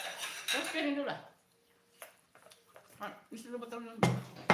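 Plates and cutlery clink and clatter intermittently as food is served before breaking the fast, with people talking over the sharp metallic taps.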